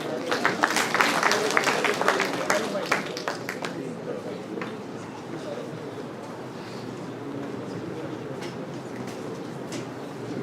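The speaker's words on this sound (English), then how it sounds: "Let's give them a round of applause" An audience at a medical college CME event in Ahmednagar claps in a dense burst that is loudest at first, then fades and thins out into scattered claps and room murmur.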